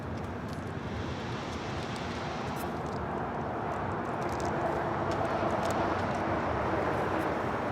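An ANA airliner rolls down the runway at Los Angeles International Airport, producing a steady, broad jet roar. The sound holds at a constant level across the whole stretch, with no talk over it.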